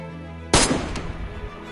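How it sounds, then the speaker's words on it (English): A single sharp sniper gunshot in a video game, loud and close, followed by a short echoing tail. "Taking a shot."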